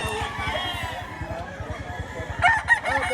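Roosters crow loudly among clucking chickens at a busy poultry market in Lipa, Batangas, with a rapid pulsing background and a sharp burst of crowing near the end, close by.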